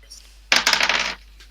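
Dice rolled on a table during a Dungeons & Dragons session: a sudden clatter of hard plastic tumbling and bouncing for about half a second, quick rattling hits that settle and stop, close and loud in a quiet room.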